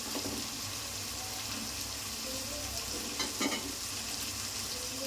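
Ginger garlic paste frying in a pan for a chicken curry, a steady soft sizzle with occasional stirring scrapes, fairly quiet and close, no voices.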